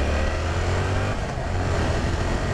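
A 2022 Yamaha R7 with a parallel-twin CP2 engine runs close and loud, a continuous throaty engine drone with slight swells in revs.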